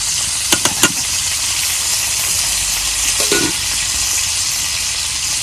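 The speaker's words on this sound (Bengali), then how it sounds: "তেল গরম হচ্ছে, এখন আমি পেঁয়াজ কুচি দিয়ে দিব।" Chopped onion and green chili fry in hot oil in a pan on a clay stove while a fish curry with white aubergine cooks, giving a steady close sizzle and hiss with a few sharp stirring clicks early on and a brief clatter later.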